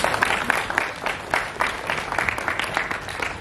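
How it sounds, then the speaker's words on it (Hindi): An audience rises in standing applause at an awards ceremony, clapping in loud, slightly rhythmic surges with crowd noise mixed in, close and continuous. "अभी दोस्तों खड़े होकर जोरदार तालियों की गड़गड़ाहट।"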